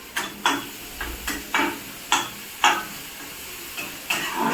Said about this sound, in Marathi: आता मी याच्यामध्ये हळद ॲड करणार आणि ती पण छान अशी फ्राय करून घेते तेलामध्ये